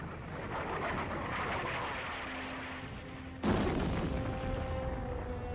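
A rolling, continuous rumble of artillery fire from Big Bertha guns lobbing one-ton shells at concrete forts, with a sharper, heavier blast breaking in midway before the thunder carries on.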